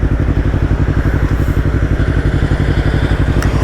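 A Yamaha MT-03 motorcycle with a full Akrapovic exhaust runs close by with a loud, rapid, pulsing engine note and a rhythmic throbbing beat that holds steady throughout.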